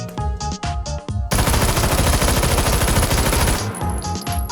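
An automatic rifle fires fast full-auto bursts in the VR shooter H3VR, loud and close: a few short shots, then a sustained rattling stream for over two seconds before tapering off.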